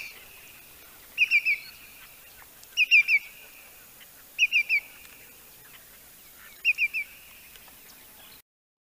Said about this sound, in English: Greater yellowlegs.